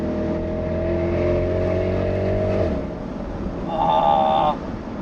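Mercedes SL63 V8 engine under throttle, a loud throaty drone holding steady then dropping away, followed by a brief rising whine as the revs climb again.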